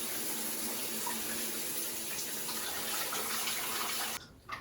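Water runs steadily from a tap while hair dye is rinsed out, a loud continuous close hiss and splash that cuts off near the end, leaving a few faint drips and handling noises.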